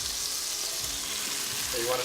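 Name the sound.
mushrooms sauteing in olive oil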